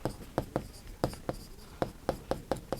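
Hand writing out an algebra identity, likely pen or chalk strokes, sounding as about a dozen sharp taps and scratches in an uneven rhythm, close and clear, with no talking.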